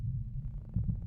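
Low, muffled heartbeat throbbing steadily, signalling a creature within 500 meters in the horror game Witch Hunt; soft and close with no talk over it.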